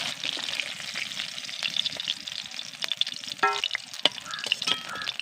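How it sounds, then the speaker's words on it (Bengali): Koi fish frying in hot oil, a steady close crackle and sizzle with scattered pops and light scraping of a utensil, continuous throughout. "মাছগুলোকে আমি ভালো করে ভেজে নিয়েছি এবার এগুলোকে আমি তুলে নেব"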